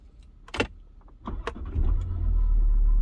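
A December 2012 Jaguar XFS 3.0 V6 diesel gives a few soft clicks and a sharp knock before the engine cranks and catches. It settles into a steady, fairly quiet low idle rumble, heard alone.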